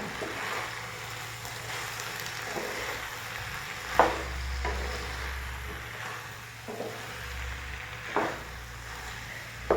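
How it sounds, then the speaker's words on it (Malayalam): Ivy gourd and tomato stir-fry being turned in a pan, a steady low sizzle with occasional scraping stirs and clinks of a spatula against the pan, close and without talk. "തക്കാളിയൊക്കെ വെന്ത് പാവയ്ക്കക്കൂടെ യോജിച്ച് ഒന്നും കൂടി വലിപ്പിച്ചെടുക്കാം"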